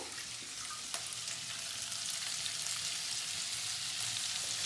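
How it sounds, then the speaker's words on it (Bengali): Food sizzles quietly in a pan while dragon chicken is being cooked, a faint, steady frying hiss that carries on without any talk. "খুব বেশি ফ্রাই করার দরকার নেই এগুলো।"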